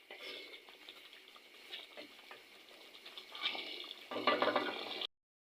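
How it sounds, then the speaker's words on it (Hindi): Yogurt whisked into chicken kadai gravy in a pan, giving soft wet stirring and patter that swells toward the end before cutting off abruptly. "थोड़ा सा इस तरह से फेंट भी लेंगे ताकि जो दही हमने ऐड किया था वो अच्छे से मिक्स हो"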